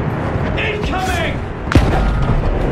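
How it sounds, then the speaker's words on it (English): Artillery shell explosion destroying a tank in the Battlefield 1 video game, a sharp loud boom about two-thirds through over constant rumbling battle noise, with a voice speaking under the game sound. "It got obliterated by that freaking artillery gun."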